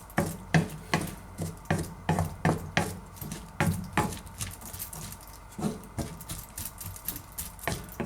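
Homemade bolognaise sauce stirred in a warming pan, a spoon knocking and scraping against the pan in a steady rhythmic series of close, clattering strokes.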